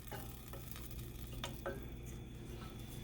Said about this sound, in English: So first, melt the butter.